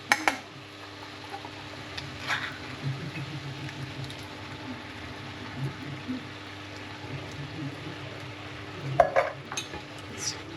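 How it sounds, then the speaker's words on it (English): Chopped tomatoes are stirred into a sizzling frying pan mixture in a motorhome kitchen, a steady soft scraping and stirring over a low frying hiss, with a few louder utensil clinks near the start and end. "Stir all of it in."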